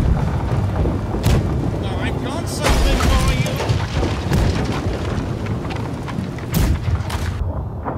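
Ship cannons booming during a naval battle in the pirate game Blackwake, heavy deep blasts firing one after another, with rumbling aftermath and voices shouting over the barrage.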